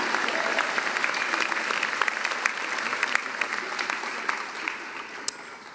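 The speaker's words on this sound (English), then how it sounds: "Throw another applause on." At a medical school White Coat Ceremony, an auditorium crowd applauds steadily. Sharp individual claps stand out over the continuous clapping, which slowly thins toward the end.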